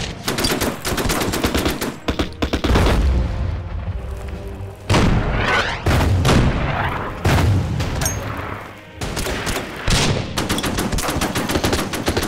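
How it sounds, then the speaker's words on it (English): Rapid gunfire and booming grenade explosions from the WW2 strategy game Order of Battle, loud and dense throughout with bursts of rattling fire and heavy blasts, briefly thinning around the middle before resuming. "look at them lob those grenades"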